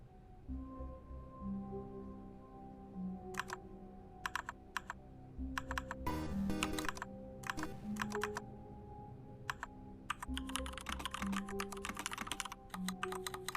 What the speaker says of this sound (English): Now with extra loud keyboard noises.